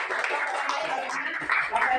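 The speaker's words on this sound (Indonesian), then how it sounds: "Beri tepuk tangan dulu untuk kelompok 4" A classroom claps for a student group, a brief patter of hands that is fairly faint and mixed with voices.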